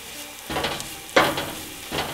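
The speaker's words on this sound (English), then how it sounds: "We're going to keep stirring this constantly." A flour and butter roux is stirred constantly in a pot over lowered heat as it browns, giving soft scraping strokes in short bursts over a faint, steady sizzle, close by with no talking.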